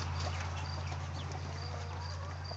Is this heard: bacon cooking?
no